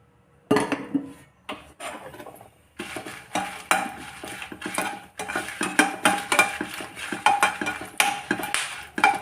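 Red chillies in a little oil are stirred in a pan, with repeated metallic scraping and knocks of a spoon against the pan over a faint sizzle, busy and close after a brief quiet start.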